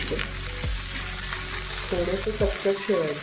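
Peanuts roast in a pan with a steady dry sizzle, and the stirring near the end brings a few scraping and rattling bursts, close by and without talk.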